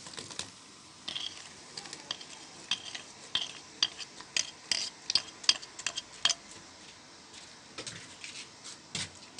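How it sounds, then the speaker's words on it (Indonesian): A spoon stirs palm sugar, white sugar and pandan leaves through boiling water in a pot, with irregular scrapes and light clinks against the metal over a soft bubbling hiss, close and moderately quiet. "Kemudian kita aduk-aduk sampai gulanya terlarut."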